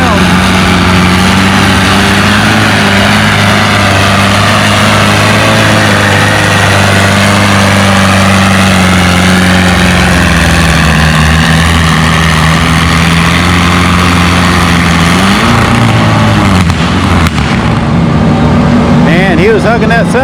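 A pulling tractor's engine roars down the track during a tractor pull, a loud sustained drone with steady low harmonics that shift and fade near the end, with an announcer talking over it.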